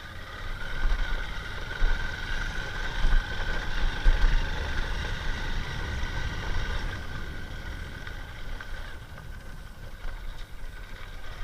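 A Hero Passion XPro motorcycle engine with a loud fault runs steadily, a constant mechanical drone and whine lasting throughout with no talk over it.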